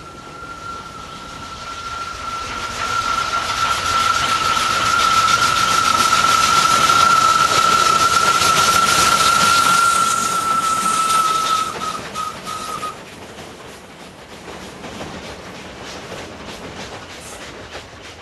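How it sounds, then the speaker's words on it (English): An old, worn steam locomotive on an Indian railway runs past on a full run, its loud steady rumble rising and then fading, with a long sustained whistle blast that cuts off abruptly near the end. "The gatemen will be among the last to witness the great steam engines on a full run."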